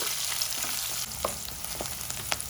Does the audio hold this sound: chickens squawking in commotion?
no